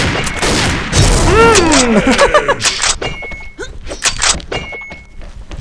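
Sniper rifle fire and other guns in the online shooter XShot, with sharp loud reports and bangs scattered through a busy battle mix with tonal game sounds, no talking.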